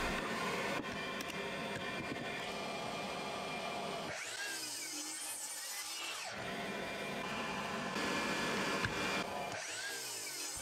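A miter saw cutting plywood legs for a geometric plant stand whines loudly throughout, with two brief dips where the blade spins down between cuts before biting into the wood again.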